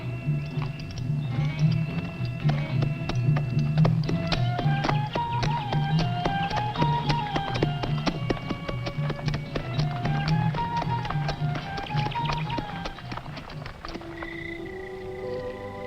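Irregular clip-clops of horse hooves tap along under a low droning tone and tonal music, steady throughout at moderate volume, with no voices.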